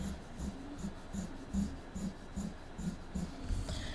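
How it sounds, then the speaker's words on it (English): A pencil sketches a cake platter drawing on paper in light, close, repeated scratchy strokes, a steady rhythm of short rubs roughly twice per second, soft and without any talking. "So I'm going to draw my platter."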